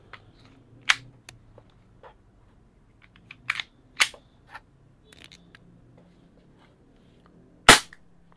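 A WE G33 gas blowback airsoft pistol, Glock 19 magazine compatible, fires a handful of sharp, snappy shots with irregular gaps, the loudest at the end, amid small mechanical clicks.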